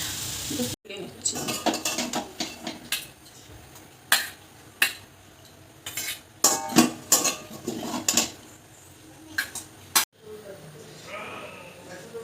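Cooked young green banana curry (kochi kolar ghonto) being served from a pan into a bowl, with repeated clinks and scrapes of a metal utensil against cookware at close range and a soft hiss underneath.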